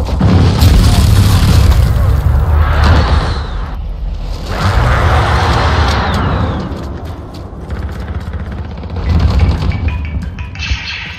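Grenade explosion in the video game Call of Duty Modern Warfare, a loud booming blast with crashing debris and gunfire-like bursts running throughout, swelling again near the end.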